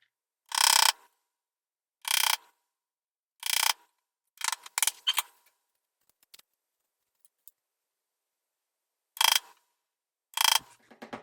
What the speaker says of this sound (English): I'm just going to be hand cutting these with one of my 1/4 inch chisels here